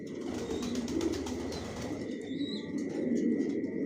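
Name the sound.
racing pigeons in a loft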